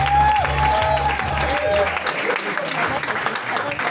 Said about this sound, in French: Merci Manès, qu'on applaudit encore